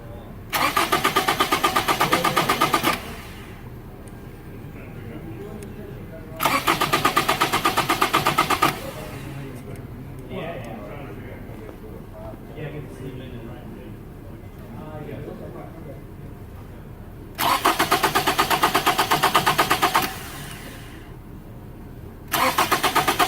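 A car engine is run during fuel injector testing. It roars loudly in several bursts of a few seconds each, dropping between them to a quieter background where someone talks.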